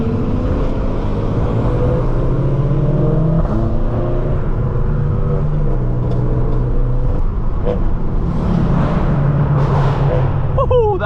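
A BMW's engine revs and roars loudly in city traffic during a street rally, a sustained rumbling drone with rising pitch, mixed with voices chattering throughout.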